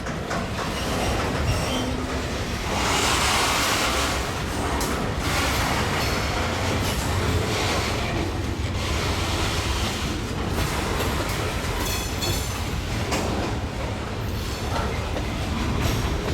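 An Iowa Northern freight train on a detour, hauling lumber, rolls past loud and continuous, with rail clatter and some wheel squeal throughout.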